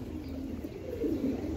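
A female racing pigeon coos softly in low, rounded murmurs against a steady background hum, the calls swelling slightly toward the end.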